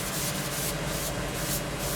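A willow cricket bat being hand-sanded with 220-grit sandpaper gives a steady, close, continuous rubbing scrape for the whole stretch, with no voices.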